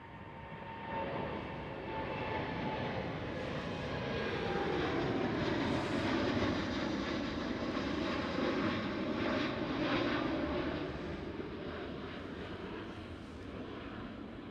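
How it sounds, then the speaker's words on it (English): An Air Canada Cargo Boeing 767 passes at Schiphol, its steady jet roar swelling to a broad peak midway and easing off, moderately distant, with no voices. "That Air Canada 767, Air Canada Cargo 767."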